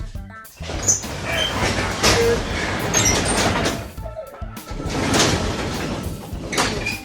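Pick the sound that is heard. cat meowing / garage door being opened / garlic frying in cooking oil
garage door being opened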